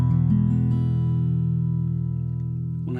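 A strummed acoustic guitar, miked seven to eight inches out and aimed at the sound hole, rings out in one sustained chord that slowly decays, heard alone and close.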